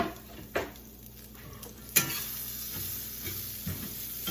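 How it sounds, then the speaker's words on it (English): Chopped onion sautés in a pan with a quiet, steady sizzle, broken by a few sharp clinks and scrapes of a utensil stirring against the pan, with no talking. "And I've chopped up some onion. I'm gonna saute that."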